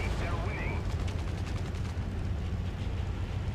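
Rapid machine gun fire from combat in War Thunder, a steady dense rattle of shots under a constant rumbling engine and battle din, with a player's voice talking over it.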